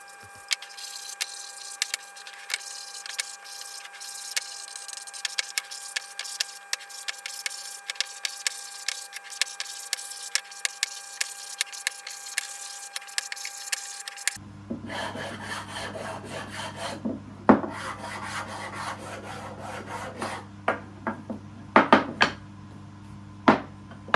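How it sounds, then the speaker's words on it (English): Steady rasping strokes of hand sanding scrape over the wooden pieces of an end-grain chopping board, close and continuous, with small knocks and clicks scattered throughout; the tone shifts partway as the work changes. "Now the next thing I want to do is sand down any rough edges."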